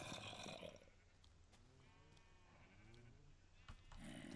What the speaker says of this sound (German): Und zwar haben wir jetzt hier ein paar Schäfchen und ein paar Kühe.